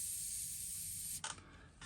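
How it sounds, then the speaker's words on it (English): A short burst of aerosol spray paint hisses steadily for about a second onto a fishing lure, then cuts off, followed by a quieter brief puff. "I'm gonna actually spray my shad dots on"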